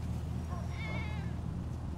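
A short, high meow from a cat rises briefly over a steady low hum of background noise.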